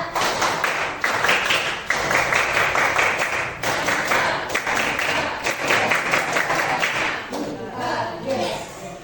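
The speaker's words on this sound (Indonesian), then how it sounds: "2 kali tepuk pramuka" Teachers at a school session perform the rhythmic Pramuka scout clap twice, giving patterned bursts of group clapping mixed with voices calling along.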